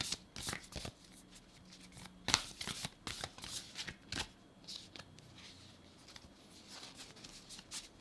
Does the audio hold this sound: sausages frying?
no